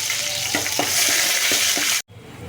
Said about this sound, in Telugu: తర్వాత కొద్దిగా కరివేపాకు వేసుకొని ఫ్రై చేయాలి